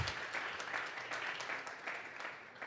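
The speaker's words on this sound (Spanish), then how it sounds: "vamos a regalarle ofrenda de palmas al Dios de la gloria" Church congregation clapping during a Sunday morning service as an offering of praise, a steady, dense wash of hand claps with a few sharper bursts throughout, fairly close and unbroken.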